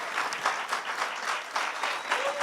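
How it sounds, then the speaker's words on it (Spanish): Church congregation clapping in welcome during a Spanish-language service, a steady, fairly loud patter of many hands with slight rhythmic surges, no speech over it. "Le damos un cordial aplauso de bienvenida."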